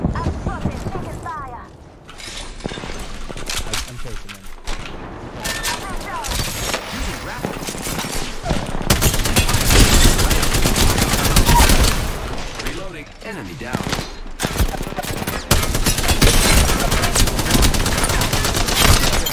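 Spitfire light machine gun from Apex Legends firing in long sustained bursts, loud and dense, over a busy mix of game effects and mechanical clatter with brief gaps between strings of shots.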